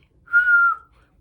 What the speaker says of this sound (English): But I learned how to whistle by just doing this.